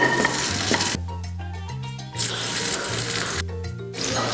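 Butter sizzles in a pan being readied for pasta, a bright frying hiss broken by stretches of loud music.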